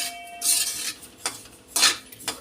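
Ajwain (carom seeds) dry-roasting in a pan on low heat, stirred with a spatula in a few short, bright scraping sweeps and light clinks, close and fairly loud, with no talk.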